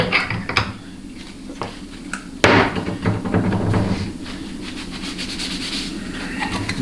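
Metal scraping and clanking while a pump is pried out of a GM 4L60E transmission, with a sharp knock midway and rattling, grinding metal contact throughout, close and moderately loud with no talk.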